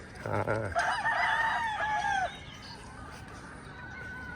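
Bull hens kept for off-season breeding cluck, and a rooster lets out one loud, near crow that falls away, then a quieter farmyard hum continues.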